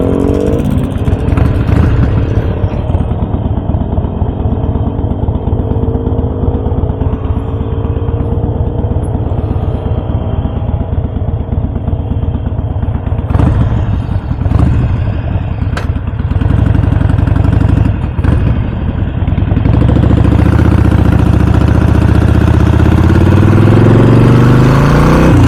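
A mixed group of motorcycles rides together on a Lombok road toward Kuta Mandalika: automatic scooters, a Vespa, Yamaha MT, Honda CBR, Yamaha R15 and two-strokes. Their engines drone steadily and loudly with shifting pitch, brief revs and passing bursts, and no talk is heard.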